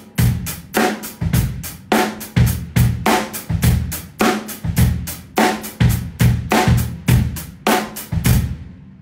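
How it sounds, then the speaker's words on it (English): Drum strokes played with free wrist rebound, mixing French and German grips: a close, loud run of sharp hits in a steady pulsing pattern, grouped accents recurring about every half second for nine seconds, with no talking. "I'm playing George Lawrence Stone's free stroke, the rebound"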